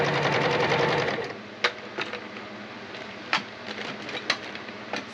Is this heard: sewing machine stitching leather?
yes